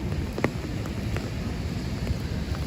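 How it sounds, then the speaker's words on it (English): Heavy rain falling on a New York City street during a storm, a steady broadband wash of downpour with a few brief louder spatters, close and continuous with no talking. "You can see the rain's picking up again, guys."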